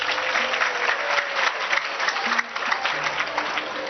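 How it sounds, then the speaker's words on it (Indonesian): Applause from a religious lecture audience in a studio, a dense, even wash of clapping heard fairly loud and steady for the whole span, with a faint hum underneath. "Tepuk tangan nggak apa-apa."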